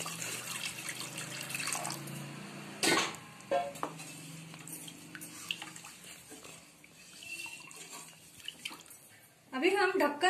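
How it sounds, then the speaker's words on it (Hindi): Water pours from a glass into a pan of cooking vegetable gravy in a home kitchen, giving a splashing pour near the start and faint utensil clinks, with short splashes and clatter later. "2 ग्लास पानी डाल रही हूँ।"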